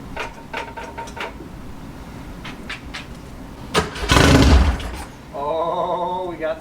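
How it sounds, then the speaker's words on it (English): A 1967 Volkswagen Fastback's engine cranks with short whirring bursts, then catches with a loud roar and settles into a steady running idle, close by. "The fourth ignition is in, so we're gonna try to get this to fire up."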